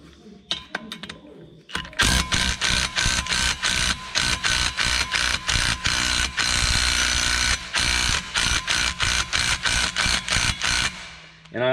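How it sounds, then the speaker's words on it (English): Repeated hard metal-on-metal blows ring out as a hammer strikes the back of a front brake rotor on a 2008 Chevy or GMC 2500HD truck, with screws left in; a dense, loud, steady run of impacts after a few quieter taps. "I also left these screws in as I was smacking the backside of this rotor"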